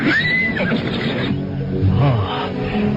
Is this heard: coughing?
no